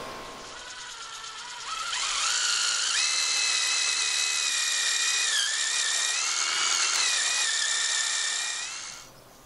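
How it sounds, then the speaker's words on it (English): A power drill whirs steadily for several seconds, its pitch shifting as it bores a hole into a wooden fence post, then spins down and stops. "I'm going to drill it slightly off to the side"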